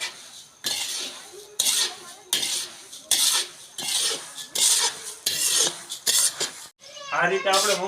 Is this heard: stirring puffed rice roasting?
yes